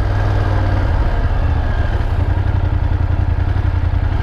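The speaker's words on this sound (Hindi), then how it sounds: "जनाब का मोटरसाइकिल लेके अपनी निकल आया हूँ" A new motorcycle being ridden, its engine a steady loud rumble with a continuous low throb and mechanical clatter, close up throughout with no pauses.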